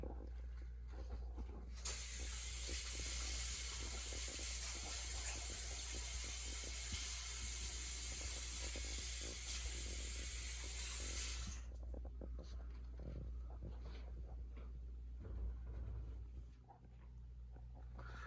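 Butter melting in a heated pan on medium heat gives a bright, even hiss that runs for about ten seconds and then cuts off, leaving quiet kitchen ambience.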